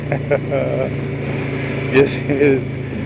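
An SE120R motorcycle's engine revs and rises through first and second gear, a steady mid-pitched drone with brief throttle surges, while someone talks over it throughout.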